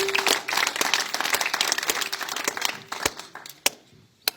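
An audience at a comedy-hosted prize distribution event claps for farmers, a dense burst of applause that thins into a few scattered claps at the end.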